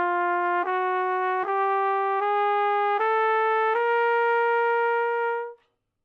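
A trumpet climbs a chromatic scale from G up to C, six clean sustained notes stepping upward one after another with brief tonguing breaks, played alone and close before a quick fade.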